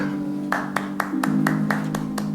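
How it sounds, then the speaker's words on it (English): Sparse, scattered clapping from a small audience at a magic show, about eight separate claps spread unevenly over a couple of seconds above a steady low hum, sounding half-hearted rather than a full ovation. "I crave your sarcastic applause"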